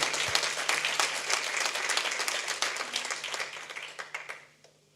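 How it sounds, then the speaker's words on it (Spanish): A church congregation applauds during a sermon, dense clapping from many hands that holds steady and then thins and fades out toward the end, with a faint low hum beneath. "Le damos un aplauso al Señor."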